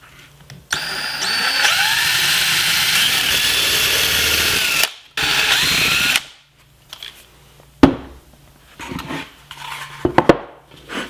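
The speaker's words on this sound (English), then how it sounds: "I've got a pre-drill with a countersink bit. It's an all-in-one drill bit, and I'll use that to drill my holes." Power drill driving an all-in-one countersink pre-drill bit into a solid walnut picture frame: two loud, sustained whirring runs of several seconds each, followed by brief clicks and knocks of handling.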